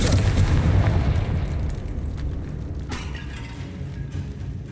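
Confringo fire spell blast in the video game Hogwarts Legacy, a loud booming explosion that rolls out at the start and fades into a rumbling tail, with a sharper crackling burst near the end.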